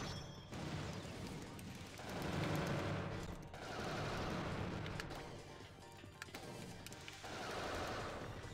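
Enemy robot's gun firing in the Custom Robo video game, dense bursts of rapid loud gunfire in several waves, with brief pauses between them.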